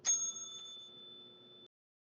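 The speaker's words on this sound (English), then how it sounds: "Did you hear the bell?" One bright bell strike rings out at the start and decays smoothly over about a second and a half before cutting off into silence.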